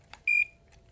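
A single short electronic beep from a controller's disconnected-battery alarm during an EMS equipment demonstration, one steady high tone lasting about a fifth of a second, set between faint clicks in an otherwise quiet room.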